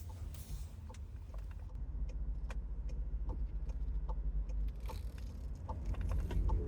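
A rideshare car drives along with a steady low engine and road rumble inside the cabin, plus small scattered clicks and rattles, no talk.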